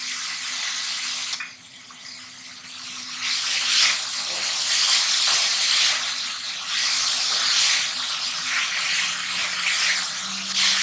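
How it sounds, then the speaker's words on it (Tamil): Finely chopped capsicum sizzles in a hot pan for capsicum fried rice, a steady close hiss that swells and eases in waves, with no talking. "பொடியாக நறுக்கின குடமிளகாய் இப்போ நம்ம பேனில் ஆட் பண்ணிக்கலாம்"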